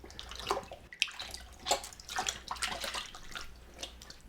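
Running tap water rinses wet hands after pork meatballs are shaped for banh mi, a close, uneven splashing with bursts of gushing and spatter, no talk.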